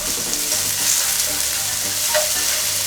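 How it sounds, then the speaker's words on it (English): Onions sizzling in hot vegetable oil in a pan on a stove set to medium high, a steady close frying hiss that continues evenly throughout. "Turn your stove on medium high and add some vegetable oils and add your onions."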